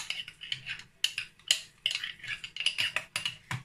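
Hardened coconut oil, solidified by cold weather, stirred to loosen it, giving a run of light scraping and clinking strokes from a utensil against a container, close and fairly quiet, in an irregular rhythm.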